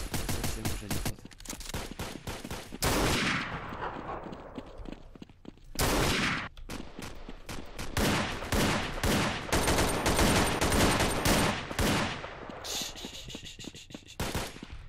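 Automatic rifle fire in the browser shooter Kubum comes in repeated loud rattling bursts, short and long, separated by brief pauses, with no talking.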